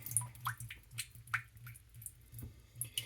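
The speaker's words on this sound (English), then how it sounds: "It'll start draining here in a moment." A replacement washing machine begins draining water: a low pump hum pulses on and off under irregular close drips, splashes and gurgles, all fairly quiet.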